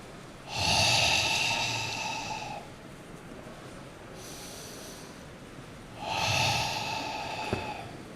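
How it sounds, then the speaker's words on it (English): Two long, deep breaths during a guided meditation session, each a drawn-out airy inhale-exhale lasting about two seconds, close and clear with a quiet pause between them. "So this is the breath."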